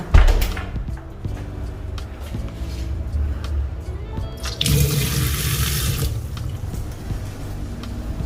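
Tap water from a PDAM municipal supply in a minimalist house runs in a steady rush, louder for a couple of seconds in the middle, with clattering and background noise around it.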